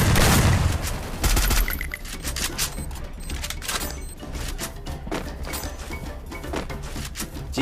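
Rapid gunfire crackles continuously through a shooter video game battle, dense bursts of shots with a heavy thump at the start, loud and busy with no clear talk.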